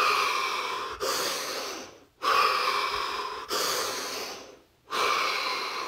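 A person takes deep breaths: three long, loud, close inhale–exhale cycles with a brief pause between each, alone and without talk.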